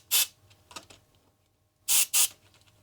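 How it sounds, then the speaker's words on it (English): Compressed air is sprayed under the keys of a Sinclair Cambridge Programmable calculator in short sharp hissing bursts: one brief puff, a fainter one, then a quick pair of strong blasts, alone and close. "First some compressed air,"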